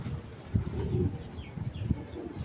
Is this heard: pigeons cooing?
yes